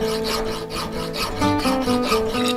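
A sharp file rasps back and forth against a worn grinding stone on a bench grinder, giving a steady, close, gritty scraping in quick repeated strokes with no talk.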